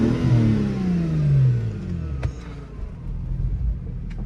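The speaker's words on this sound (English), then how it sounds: "Get a rev real quick for y'all boys" A car engine revving at a supercar meet in West Palm Beach, a loud throaty rev that falls away into a lower rumbling idle, close by, with no talk.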